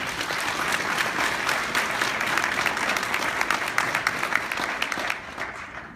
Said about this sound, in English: let's give this board another round of applause